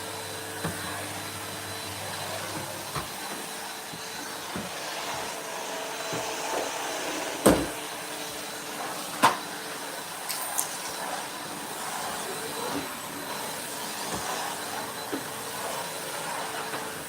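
A Henry vacuum cleaner hoovering indoors: a steady, loud motor whine that holds throughout, with occasional sharp clicks and rattles of debris being sucked up.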